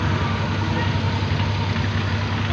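An overhauled Suzuki 12-valve car engine idles steadily nearby with a low, even rumble and no changes in speed throughout.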